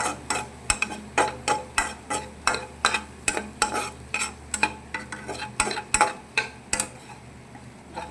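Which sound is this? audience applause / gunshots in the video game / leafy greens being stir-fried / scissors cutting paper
leafy greens being stir-fried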